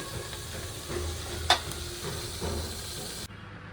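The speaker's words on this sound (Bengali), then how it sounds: "মরিচ পরিমাণ মতো দিয়ে দিলাম তো এখন আমি চুলাটা কষাই নেব" Chilies and onion sauté in a pan on a stovetop, giving a faint, steady hiss and sizzle with a few stirring clicks and one sharp tap, ending abruptly.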